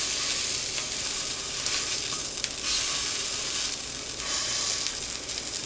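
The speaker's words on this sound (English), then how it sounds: "And we're just going to let them fry up a little bit more." Patties for homemade McMuffins fry in a pan with a dense, steady sizzle that fills the whole stretch. The crackle stays loud and close and rises slightly in bursts, with no talk.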